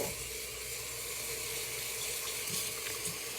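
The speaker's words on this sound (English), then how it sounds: "This is the sorrel right here. I am going to wash it." Fresh sorrel is washed in water, a steady rushing splash and trickle like a running tap filling a sink, close and continuous with no talking.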